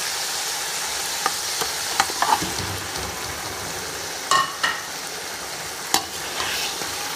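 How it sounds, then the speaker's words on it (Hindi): Chicken pieces fry in a spiced masala of tomato for jungli pulao, a soft continuous sizzle punctuated by occasional scrapes and clatters of a stirring spoon against the pan. "अब हम इसमें चिकन डाल देंगे।"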